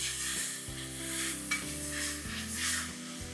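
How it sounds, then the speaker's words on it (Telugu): Fenugreek leaves fry in hot oil for a chicken curry, giving a continuous close sizzle with soft stirring scrapes throughout, no voices. "అండ్ మెంతి కూర నూనెలో బాగా వేగాలి"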